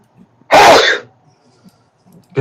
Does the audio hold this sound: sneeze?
yes